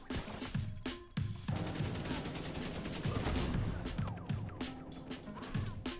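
An AKM rifle with no attachments fires in the video game The Division, sustained rapid bursts of loud, punchy gunfire that keep going with only a brief pause.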